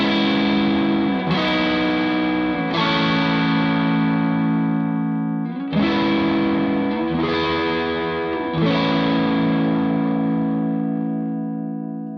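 An electric guitar through a Jackson Audio Broken Arrow overdrive pedal at maximum gain plays a series of sustained, saturated chords, about six strums spaced a couple of seconds apart, each ringing long and thick, close with no talking.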